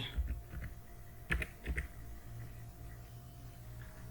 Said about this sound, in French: On va ici essayer de taper Paint.